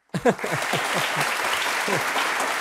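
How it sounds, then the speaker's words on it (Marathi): An audience breaks into applause at a televised Marathi courtroom-style interview show, a sharp burst of clapping that settles into steady, sustained clapping from a large crowd. "टाळ्या"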